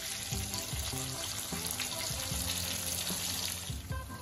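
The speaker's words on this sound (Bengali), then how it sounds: "আর এর মধ্যেই দিয়ে দেব টমেটো কুচি করে কেটে নিয়েছি।" Chopped tomato fries in a pan for aloo dum with a steady, close hiss of sizzling oil and occasional soft stirring, and no voices.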